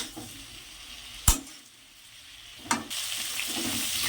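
Cauliflower and potato pieces fry in a pan with turmeric, giving a soft steady sizzle broken by two sharp clattering knocks as they are turned, the frying hiss growing stronger afterward, close and without speech.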